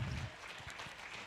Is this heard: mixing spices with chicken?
no